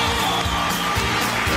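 A studio audience on a Colombian television variety show applauds and cheers for a singer, giving a brief, steady wash of loud crowd clapping and whooping.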